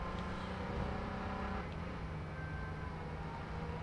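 Engine of a fast car driven in the video game H1Z1, a steady low drone with rumbling tones that runs through the whole stretch and holds a constant loudness, with no voices.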